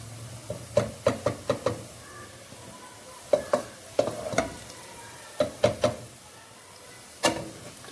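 Chopped onions fry in oil for a biryani, turning light golden, with a steady low sizzle beneath a run of sharp stirring knocks and clacks of a utensil against the pan, coming in quick clusters with brief pauses.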